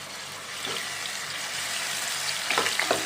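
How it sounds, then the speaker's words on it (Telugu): Masala paste for a pond fish masala gravy frying in hot oil, giving a steady, close sizzle throughout with a few brighter crackles and spatters toward the end. "ఆయిల్ హీట్ అయిందండి ఇప్పుడు ఇందులో మనం ఈ మసాలా ముద్ద వేసుకుని ఫ్రై చేసుకుందాం"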